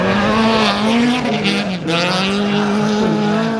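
A three-door front-wheel-drive car takes a tight bend at speed on a rally stage, its engine revving loud and close with a strained harmonic whine that dips briefly mid-corner before climbing again; no talk.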